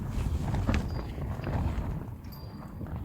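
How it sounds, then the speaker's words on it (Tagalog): Steady, blustery wind roars and buffets the microphone at a car camping site, with low rumbling gusts and faint rattling of a tent, and no one speaking. "Sobrang lakas ng hangin."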